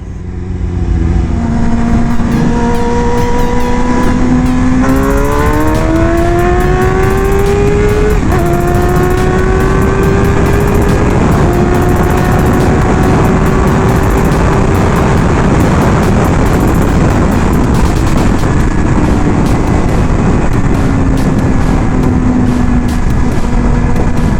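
A Suzuki GSX-R motorcycle on a freeway gives a loud, close engine whine that climbs through the gears and then holds a steady cruising drone over strong wind rush.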